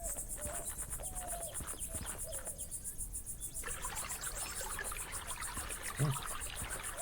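Clear spring water trickling in the video game Rosewater, a soft continuous babble with crickets and insects chirping, a faint high whine and low voices at times in the background.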